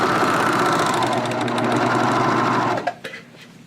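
A serger runs at high speed stitching the seam of a cuff onto a jogger pant leg, a loud continuous mechanical whir that stops abruptly near the end, followed by a few small clicks and handling sounds.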